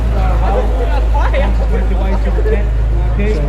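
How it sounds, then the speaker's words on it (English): A wild Ford ute rumbles in with a loud, steady low engine drone at an outdoor Sydney car show, with crowd chatter and voices over the top throughout. "As we hear this wild ute, it's just rolled in."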